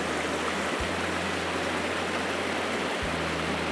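A small creek only about a foot wide flows through a park, making a steady, close rushing and trickling wash with a faint low thump now and then.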